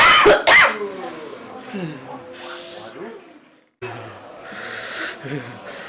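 A person coughs several times in quick, harsh bursts close by at the start, followed by breathy throat sounds and talk in Indonesian.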